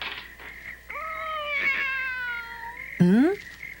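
A cat meows several times, drawn-out wavering cries ending in a louder, insistent yowl, close by with no talking.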